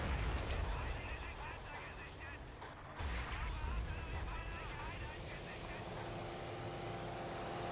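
Booming artillery shells and gunfire fill a World War II battle at Bastogne in the video game Forgotten Hope 2, dense and loud, with excited players talking over the barrage.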